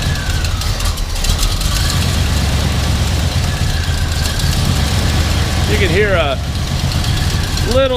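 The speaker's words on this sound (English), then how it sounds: "little tiny exhaust leak down there, probably off the header flange" Close, steady idle of a cold 1972 Chevrolet Chevelle SS 350 V8 with a small exhaust leak at the header flange, a continuous rumble, with brief squeaky tones near the end.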